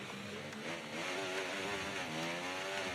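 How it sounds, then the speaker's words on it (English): F1 car engine in the F1 24 racing game at Monaco, revving hard with a wavering, stuttering pitch from rear wheel spin on corner exit, loud and steady throughout with no talk. "Oh, he just got wheel spin. You can hear it in the engine."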